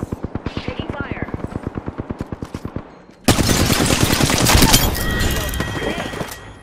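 Automatic gunfire in the game Apex Legends: a rapid, evenly spaced string of close shots, then a short gap and a much louder, denser barrage with crashing impacts, while a voice talks over it.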